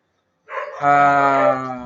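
A carabao water buffalo lets out a single low, drawn-out moo that starts abruptly and holds steady for more than a second.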